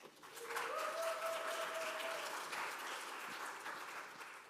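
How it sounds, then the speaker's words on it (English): A church congregation applauds its educators and education supporters during a worship service, steady broadband clapping filling the room from start to finish, with a brief sustained tone briefly sounding early on. "can we give all of our incredible educators and education supporters a round of applause?"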